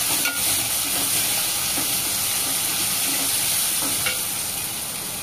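Cluster beans fry over a medium flame in a pan while fresh coriander is stirred in, with a steady close sizzle and hiss and a few soft spoon taps and scrapes.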